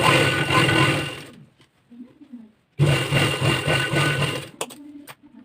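A sewing machine runs in two loud bursts while stitching a folded-in edge on a blouse, with a short pause between them and a brief quiet stretch with faint sounds near the end.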